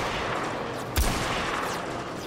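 Gunfire in the video game Warframe, a single sharp, heavy shot cracking out over a continuous hiss of game ambience, with a few faint pops around it.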